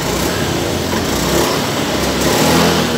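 Honda Beat ESP scooter with a sputtering, power-losing engine revving loudly and steadily up close, a continuous buzzing drone with slight surges and no pauses.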